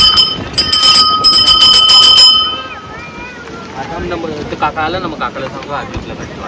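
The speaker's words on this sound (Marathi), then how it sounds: "वाजवता घंटी, घंटी वाजवता." A temple bell at the Kadyavarcha Ganpati shrine in Matheran is struck rapidly several times, ringing loud and close for about two seconds before fading, followed by voices talking.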